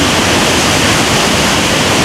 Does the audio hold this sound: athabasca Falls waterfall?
yes